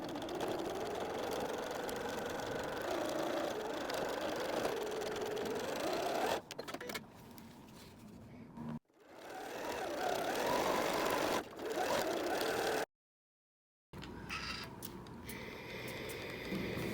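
A sewing machine runs in long whirring bursts as it stitches a seam across fabric for a messenger bag, with brief stops and pauses between runs.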